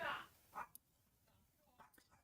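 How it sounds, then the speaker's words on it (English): Dogs barking indoors at a distance, a couple of faint short barks near the start followed by a few quieter yips, heard alone and fairly quiet. "And the dogs are barking."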